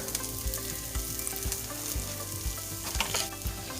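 Gluten-free flour being stirred into an oiled pan, with steady close sizzling and frying and a spoon scraping and tapping the pan at regular intervals.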